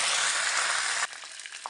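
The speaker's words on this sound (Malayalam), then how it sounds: "ഇനി നമുക്ക് അതിലേക്ക് കുറച്ച് കറിവേപ്പില ചേർത്ത് കൊടുക്കാം." Curry leaves hitting hot oil already crackling with mustard seeds, a loud, bright sizzle that drops suddenly about halfway into a quieter, scattered popping.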